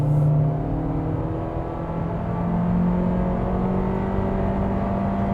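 A 2023 Honda CR-V with a retuned CVT gathers speed from about 40 mph, its engine a steady, subdued drone with a rising tonal whine under cabin road noise, close and continuous throughout.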